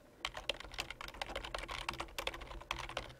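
Rapid, irregular keystrokes on a computer keyboard while text is entered into a text box in drawing software, close and clear with no voices.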